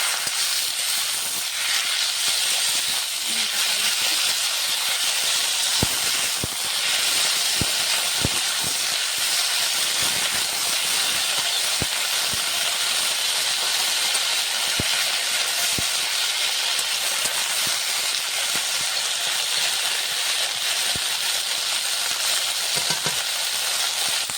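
Curry leaves fry in a pan with green chilli, giving a steady, fairly loud hiss that runs the whole time, broken by a few faint clicks and taps.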